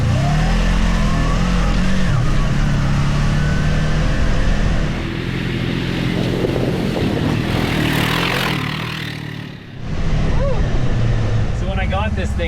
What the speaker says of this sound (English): Engine doesn't seem upset that I'm driving it like this.